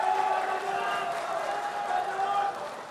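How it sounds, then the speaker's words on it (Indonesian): Audience at a gubernatorial debate claps in a steady, dense round of applause that fades slightly at the end. "kita berikan aplaus untuk dua pasangan Cagup nomor urut 1 dan nomor urut 2"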